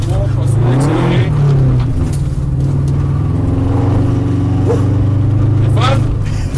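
A car engine holds a steady drone and pulls under acceleration on a rally driving lesson, loud and close from inside the cabin, with an instructor and driver talking over it.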